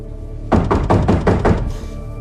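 Knocking on a door: a sharp burst of about six rapid, heavy knocks, loud and close, with quiet before and after.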